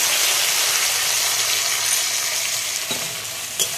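Vegetables with salt and turmeric fry in a pan, making a loud, continuous close sizzle with stirring scrapes and a couple of sharp clinks near the end, no talking.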